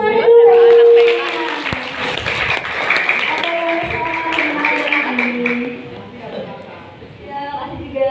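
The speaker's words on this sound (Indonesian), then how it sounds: "Oke, kasih tepuk tangan dulu." An audience at a community outreach health session on handwashing claps briefly, the scattered applause swelling after a moment and then fading as voices carry on over and after it.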